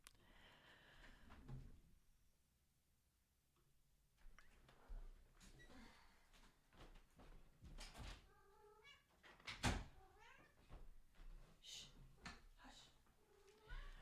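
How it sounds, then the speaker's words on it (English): A house cat meows several times to be let in, with short cries standing out from quiet room sounds. A door or drawer is handled nearby, and a person speaks briefly. "She just like meows until I let her in."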